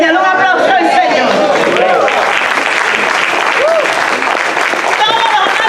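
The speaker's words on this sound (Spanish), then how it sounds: "Dale un aplauso al Señor." Church congregation applauding during a Spanish-language evangelical service, a loud, continuous wash of many hands clapping with crowd voices and cheers mixed in for several seconds.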